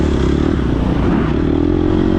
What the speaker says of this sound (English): So somebody's revving behind me